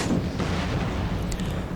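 Mortar artillery fires in an Empire: Total War battle, heard as a dense, continuous rumble of distant booms and crackling shots at a steady level.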